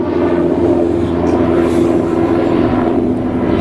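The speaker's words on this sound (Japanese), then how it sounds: "ヘリコプターが通っております。" A helicopter passing overhead at an outdoor golf equipment shoot gives a loud, steady engine and rotor drone that fills the whole stretch without letup or voices.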